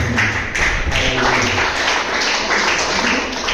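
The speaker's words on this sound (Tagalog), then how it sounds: "Palakpak po sa atin." A church congregation applauding, a dense continuous patter of many hands clapping at an even, moderately loud level.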